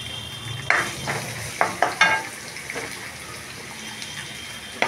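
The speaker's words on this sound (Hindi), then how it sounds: "सबसे पहले हम कढ़ाई गर्म होते साथ इसमें डालेंगे बनकर। सबसे पहले हम गाजर डालेंगे।" Carrots sizzle as they hit a hot wok, a bright frying hiss under scraping stirs and sharp clattering taps of a utensil against the metal, several distinct knocks over a steady sizzle, close and with no talk.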